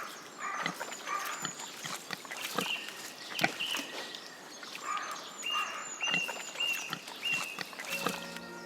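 Wild boar rooting about in muddy deciduous forest, a string of close grunts and snuffling snorts in irregular bursts, with faint birdsong behind and no talking.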